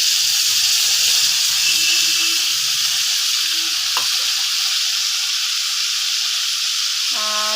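Potato, bay leaf and ground spice paste fry in hot oil: a loud, steady hiss of sizzling fills the whole stretch, close up, with a single brief clink near the middle and no talking.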